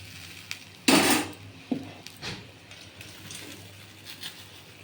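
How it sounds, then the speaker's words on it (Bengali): Cauliflower florets drop into boiling gravy in a pan: one loud splashing clatter, then a few smaller plops and pan clinks over a quiet bubbling background. "ঝোলটা ফুটলে আমি এর মধ্যে দেখুন এই ফুলকপিগুলো সব ছেড়ে দেব"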